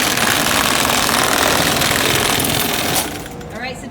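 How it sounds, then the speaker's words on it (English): Industrial sewing machine stitching a feed bag closed at a feed mill, a loud steady mechanical rattle running continuously for about three seconds before cutting off, with talk in the background. "we'll let him do the sewing machine because we don't want to sew our fingers to the bag"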